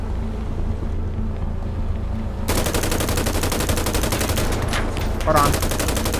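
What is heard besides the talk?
gunfire in GTA 5 video game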